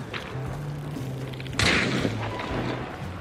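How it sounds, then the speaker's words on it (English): A choke bomb bursts in the video game Hunt: Showdown: one sudden, dull, muffled thump with a brief hiss of spread, set over a steady low in-game drone and tones. "Oh, choke bomb!"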